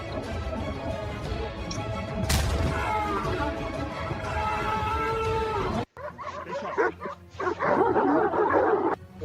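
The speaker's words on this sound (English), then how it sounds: "Yeah, and that was my dog." A dog gives yips and whimpering bow-wow sounds, moderately close, over a continuous background noise that cuts out abruptly before more yipping bursts follow.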